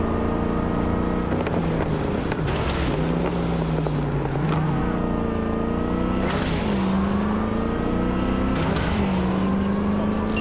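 Fast car in the video game Cyberpunk 2077 roaring at speed, with a loud, continuous engine drone whose pitch rises and shifts as it revs through gears.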